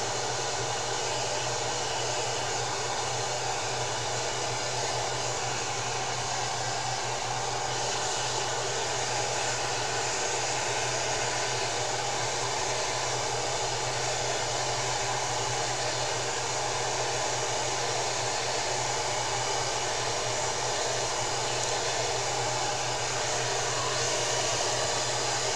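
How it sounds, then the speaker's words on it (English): A blow dryer runs steadily for the whole stretch, blowing on a handmade envelope art journal page; a loud, constant close-up whooshing roar with an even motor hum and no voices over it. "Now let me grab my blow dryer, and we'll give this a quick dry."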